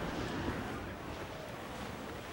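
Steady wind roars over open sea while waves wash around a sailing ship, a dense, continuous rush that fills the scene with no voices, from the pirate game Assassin's Creed 4: Black Flag.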